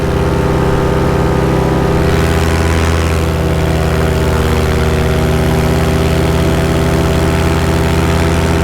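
A small paramotor engine idles and runs steadily while warming up, a loud continuous droning hum with a buzzing tone that holds constant throughout.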